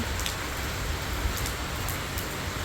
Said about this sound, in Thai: ฝนตกพี่น้องเลย